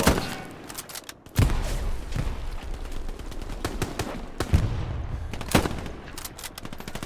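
Automatic weapon fire in the World War II shooter Hell Let Loose, with loud close bursts and sharp single cracks over a dense roar of continuous distant gunfire.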